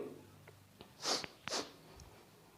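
A sneeze with a brief sharp breathy burst followed by a second one about half a second later, moderately loud against a quiet room.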